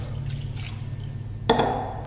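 Orange juice poured into a corned beef seasoning mix of Coca-Cola and other liquids: a brief splashing pour starting late and continuing to the end over faint background noise.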